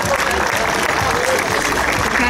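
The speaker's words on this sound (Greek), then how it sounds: "Ένα ζεστό χειροκρότημα στα κορίτσια λοιπόν." Warm applause for the girls who finished first at a 3-on-3 final award ceremony, a crowd clapping steadily and loudly up close, with voices mixed into the clapping.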